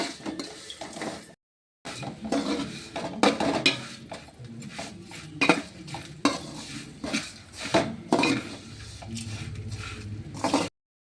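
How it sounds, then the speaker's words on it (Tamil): Vermicelli roasts in a pan while a metal spoon scrapes and clinks against it in busy, uneven bursts. A faint sizzle sits underneath, and there is a short silent gap near the start. "சேமியாவை வறுத்து எடுத்துக்குவோம்"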